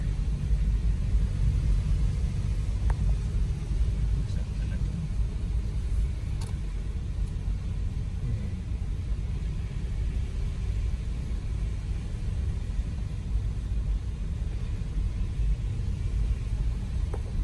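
A car rolls slowly through a multi-storey parking garage, a low, steady engine rumble with faint echoing road noise and no speech.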